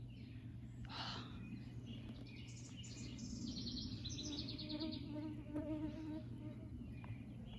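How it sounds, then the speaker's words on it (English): Mosquitoes swarm around a person on a Sunday morning garden stroll, making a faint, high, wavering whine over steady outdoor background hum, with a few distant bird chirps. "they are lovely, lovely mosquitoes"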